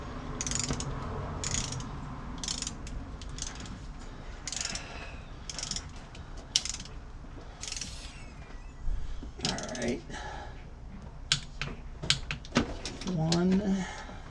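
Bolts are tightened with a ratchet wrench during a cam and lifter install on an engine, giving steady close ratcheting clicks and mechanical clatter with occasional knocks of tools, while a person talks quietly in the background.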